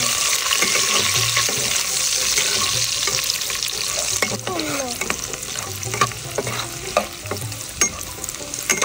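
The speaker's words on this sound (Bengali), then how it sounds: "ভেজে নিয়েছি কিশমিশ ও কাজু বাদাম ভেজে নিয়েছি" Cashews, raisins, bay leaf, cinnamon and cardamom fry in a pan with a continuous close sizzle, broken by repeated scraping strokes of a stirring spoon, no voices.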